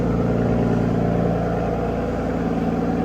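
Deep, steady 2009 Aston Martin DBS Coupe engine idle rumbling up close, a continuous throaty burble with no voices.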